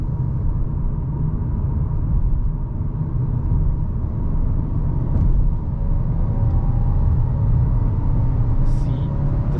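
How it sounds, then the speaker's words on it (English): Steady low rumble of a 2021 Citroen C3 with a PureTech 110 hp engine cruising on the highway, with road and engine noise droning continuously inside the cabin. "And now you will see how the car performs on the highway."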